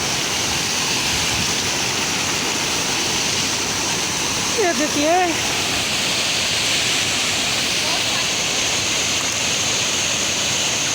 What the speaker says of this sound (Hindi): ऊपर से पानी आ रहा है।